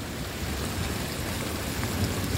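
Heavy rain pouring down on a farm during a thunderstorm, a dense, continuous roar of drops with a deep low rumble underneath, loud and steady for the whole short stretch.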